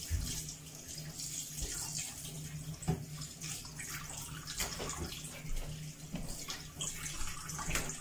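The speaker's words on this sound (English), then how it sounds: "I'm now going to go on to wash the fish" Fish being washed under a running kitchen tap, a steady broadband rush of water lasting throughout with occasional splashes and handling knocks, close and fairly loud, no talk.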